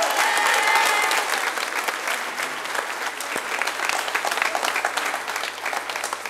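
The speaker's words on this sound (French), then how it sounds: "On va les applaudir." An audience in a church breaks into sustained applause after a liturgical celebration, a dense, loud, continuous clapping from many hands that holds steady throughout.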